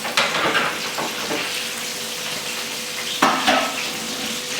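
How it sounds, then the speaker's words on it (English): Potatoes drop into hot oil for roasting and set off a loud, crackling sizzle with sharp spits, along with a couple of pan clatters as the fat keeps bubbling steadily. "So we need to put the potatoes in, just watching out for it spitting on us."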